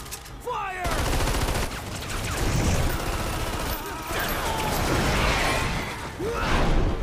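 Sustained gunfire in the Lost Planet video game, a dense, noisy burst of rapid shots and mechanical clatter running nearly the whole time, with voices underneath.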